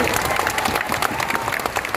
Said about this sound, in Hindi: एक बार इनके लिए जोरदार ताली बजाइए